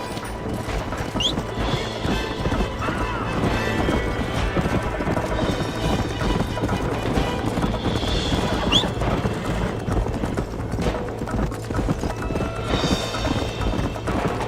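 Steady, dense clatter of a galloping horse's hooves mixed with rumbling noise in the video game Red Dead Redemption, with a couple of brief whinny-like calls rising over it.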